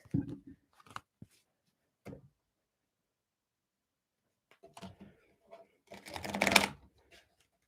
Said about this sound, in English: Let's get a better shuffle.